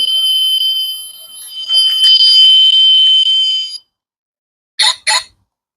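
A loud, piercing electronic alarm wails continuously for several seconds, then cuts off, followed after a pause by two short sharp beeps.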